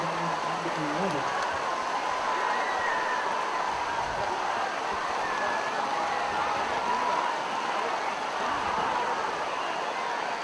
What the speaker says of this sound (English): And the rain has started to pour down here at the Ram Bowl.